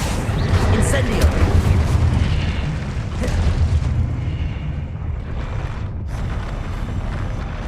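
Incendio fire spell in Hogwarts Legacy, a steady loud roaring rumble of flame and booming effects that runs continuously throughout, dense and close with little variation.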